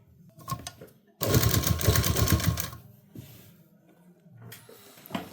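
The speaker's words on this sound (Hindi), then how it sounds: "ऊपर से हमें सिलाई लगाते जाना है।" A sewing machine stitches lining onto a readymade kurti neckline in one loud, rapid mechanical run of about a second and a half, framed by quieter handling noises and fabric rustle.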